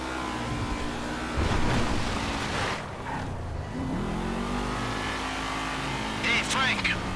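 Cars race in Grand Theft Auto V, engines droning and revving with swelling acceleration and a brief pass-by, while character voices talk over the steady motor noise.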